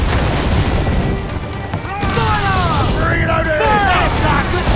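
Ship cannons boom during a naval battle in the video game Assassin's Creed IV Black Flag, with several heavy, rumbling blasts under shouting voices and a rising whistling sweep of shots mid-clip.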